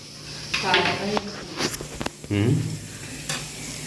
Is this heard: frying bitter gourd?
yes